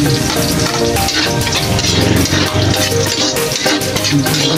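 Garlic frying in hot oil in a pan for squid adobo, a dense, loud, continuous sizzle with faint crackling and stirring throughout, no voices.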